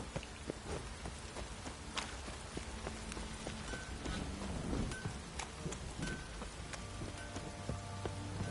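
A heavy downpour in The Witcher 3 patters steadily on surfaces with scattered drips and ticks, faint and even throughout, with occasional soft clopping like hooves.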